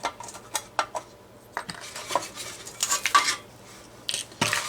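An old, fire-worn metal muffin tin is handled, making irregular close clanks, scrapes and rattles in short bursts with quiet gaps.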